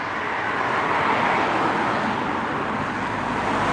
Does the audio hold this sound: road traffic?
yes